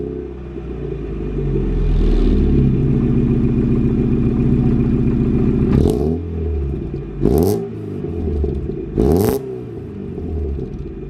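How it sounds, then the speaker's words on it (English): Car fitted with a Powerflow exhaust and welded diff idling with a deep rumble, then blipped through three sharp, loud revs in quick succession, each rising and falling back to idle. "we have a power flow exhaust, which you will get to hear in a little bit"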